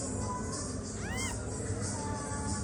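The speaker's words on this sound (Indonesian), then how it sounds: "Baru usia 2 hari. Kucing apa? Kucing Persia." A two-day-old Persian kitten gives one short, thin, high-pitched meow partway through, fairly faint against steady indoor background noise.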